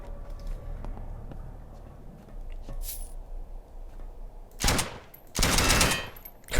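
Video game submachine gun fire arrives late as two loud bursts of rapid shots after a quiet stretch of faint clicks and room noise.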